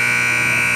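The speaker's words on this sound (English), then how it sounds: "and the buzzer will go" Loud, steady electronic buzzer marking the end of a period at an ice hockey arena during a semifinal game, a continuous flat blare lasting the whole moment.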